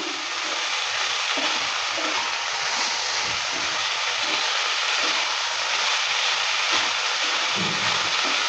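Chopped banana flower fries in a pan, a continuous loud hiss of oil with occasional soft stirring scrapes, heard close and alone.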